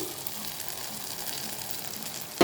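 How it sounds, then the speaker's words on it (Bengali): Whisked yogurt goes into a hot spice masala gravy for a paneer kofta curry made without onion or garlic, giving a steady, soft sizzle that ends with a sharp knock. "মশলার মধ্যে গ্রেভির মধ্যে দইটা দিয়ে দিচ্ছি"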